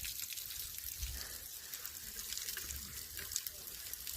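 Snowmelt water trickles steadily at a mountain spring on a hiking trail near Mt. Baden-Powell, a continuous close trickle with small drips.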